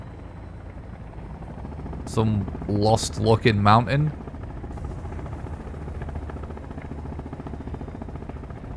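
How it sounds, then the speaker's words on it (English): A helicopter in the survival video game Sons of the Forest flies with a steady, droning engine and rotor hum throughout, while someone talks briefly over it midway. "Okay, so we're in a helicopter"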